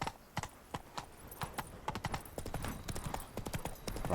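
Horse hooves clip-clop in The Witcher 3: Wild Hunt, a brisk, steady rhythm of close, crisp hoofbeats continuing throughout, with no talk over them.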